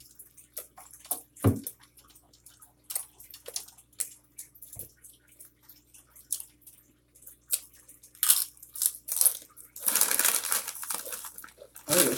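Crunchy bites and chewing of Doritos chips close to the mic in a late-night mukbang, scattered crisp crackles building to a dense rustling crunch near the end.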